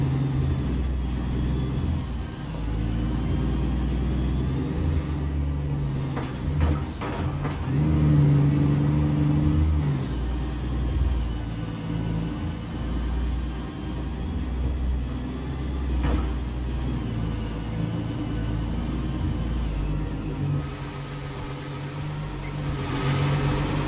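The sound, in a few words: truck driving over potholed ice road in a trucking video game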